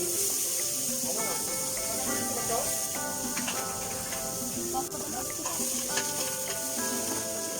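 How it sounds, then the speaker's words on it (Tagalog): Garlic sautés in a pan for a goat papaitan dish, giving a constant close hissing sizzle with stirring scrapes while a voice talks over it throughout. "sa paggisa ng mga bawang"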